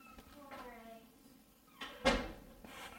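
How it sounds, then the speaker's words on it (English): A door shuts with a single sharp, close thud about two-thirds of the way through, set against a quiet room with faint voice-like sounds earlier. "Shut the door."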